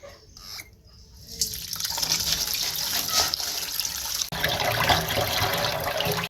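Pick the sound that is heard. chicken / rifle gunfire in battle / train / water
water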